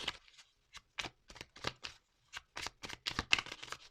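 Oracle cards shuffled and drawn from a deck, a run of crisp papery riffles and slaps in irregular bursts, close and fairly quiet, with no talking.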